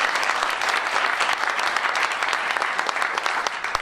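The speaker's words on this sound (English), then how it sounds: "Let's give her a round of applause." Audience at a neighborhood community meeting breaks into applause, a dense, steady wash of many hands clapping that holds at an even level for about four seconds with no break.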